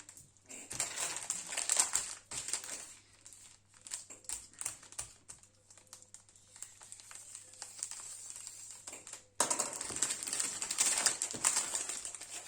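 Plastic packaging crinkles and rustles up close in irregular bursts, growing louder and busier toward the end.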